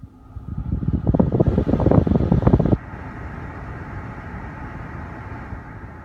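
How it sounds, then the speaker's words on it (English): The heater blower fan of a 2016 Kia Sorento SX rises to a loud, rushing whoosh, then drops abruptly to a softer steady hum partway through, heard close up inside the cabin. "I'll try turning the fan up."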